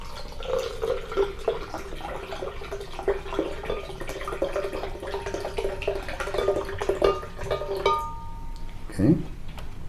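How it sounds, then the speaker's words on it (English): Mountain spring water pours steadily into a kitchen blender jar, a continuous splashing trickle lasting several seconds before tapering off, followed by a short clunk. "first we'll pour into our blender a cup of mountain spring water"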